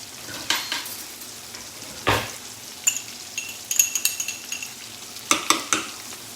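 Spices, garlic, ginger and lemongrass frying in a pan for crispy chicken with red Thai sauce, a close steady sizzle broken by repeated clinks and scrapes of stirring, with no talk.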